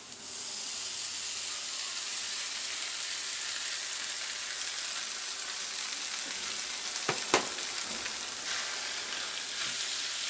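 Tomatoes and spices with turmeric sizzle and fry steadily in a pan for tofu curry, a constant close hiss with a few brief clinks of stirring near the middle.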